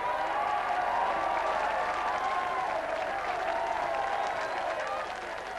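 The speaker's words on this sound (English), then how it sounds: "A big round of applause for Reggie's crap products" A studio audience claps for the whole stretch, a dense and even burst of applause that thins slightly toward the end.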